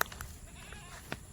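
Goats in a farm pen give short bleats, one early and one about a second later, over a low, steady background of outdoor ambience.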